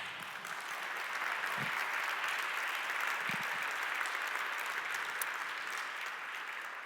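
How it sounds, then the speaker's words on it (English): A crowd applauding steadily, dense clapping that holds for several seconds at a fairly even level. "Maybe we give them a round of applause."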